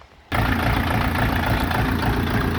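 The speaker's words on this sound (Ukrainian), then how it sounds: "І зараз ми заводимо нашу ласточку і покажемо, як вони працюють." A Jinma 404 mini tractor with a KM490 engine starts with a sudden catch, then settles into a steady, close, low rumbling idle.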